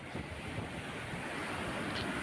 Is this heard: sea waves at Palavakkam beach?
yes